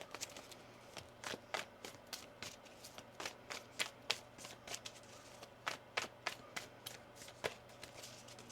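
Tarot cards are shuffled by hand in quick repeated riffles and taps, crisp close bursts in an irregular rhythm with no talking.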